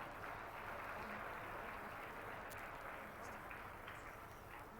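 Loud, sustained applause from a large crowd for the Prime Minister at an event in Chhattisgarh, a dense, continuous roar of clapping that stays steady from start to finish.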